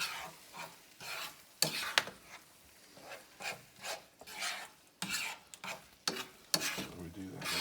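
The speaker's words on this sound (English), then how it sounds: "And then we start mixing it around." Matzah and egg frying in a pan while being stirred, with repeated scraping and rubbing strokes of a utensil over a soft sizzle, in short uneven bursts close by.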